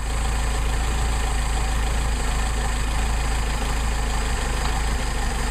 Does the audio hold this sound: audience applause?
no